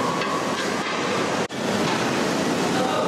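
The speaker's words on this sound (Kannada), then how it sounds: "ಇದರಲ್ಲಿ 10 ಬಕೆಟ್ ಈರುಳ್ಳಿ ಹಾಕೊಂಡು ಈಗ ಎಣ್ಣೆಯಲ್ಲಿ ಇದನ್ನ ಫ್ರೈ ಮಾಡ್ತಾ ಇದ್ದಾರೆ" Ten buckets of onions frying in oil in a large vessel, a loud dense continuous sizzle with a brief dip midway.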